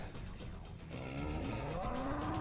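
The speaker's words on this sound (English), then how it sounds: "Moo." Cow mooing in the video game Serious Sam's Bogus Detour: one drawn-out, low moo that swells and holds, with no talking.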